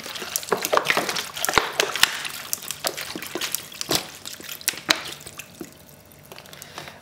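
Water poured over veal bones in a pot for brown veal stock, with an uneven splashing, trickling flow and scattered drips and clatters running for several seconds up close.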